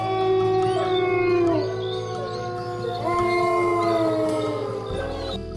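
Several dogs howl at night across a village, long wavering overlapping howls rising and falling together, fairly loud and carrying, with a steady low hum underneath and no talk.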